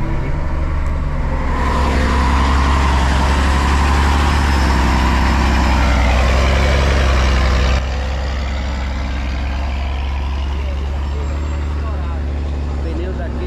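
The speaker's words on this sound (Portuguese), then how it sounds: "Os caminhões vão para subir." Trucks idle and pull up a road from Pacaraima toward Boa Vista, a loud, close, continuous low engine rumble with a shift in tone partway through and someone talking over it.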